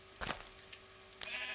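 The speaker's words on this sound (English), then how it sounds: "Oh, you killed the sheep, me gusta." A sheep bleats when killed in Minecraft, giving two short game bleats about a second apart, clear and close with no talk.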